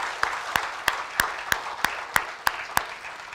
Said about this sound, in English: I think there definitely needs a applause.